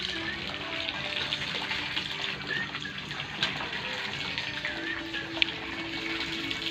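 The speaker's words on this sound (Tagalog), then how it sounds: "Ayan, nayawas ng bomba." Water pump pushing out a steady gushing stream of water, a continuous rushing flow at moderate level with a faint click near the end.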